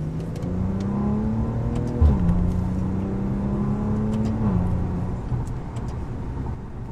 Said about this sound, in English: Great pickup from the engine.